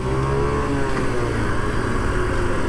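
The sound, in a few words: Honda Monkey 60 cc motorcycle accelerating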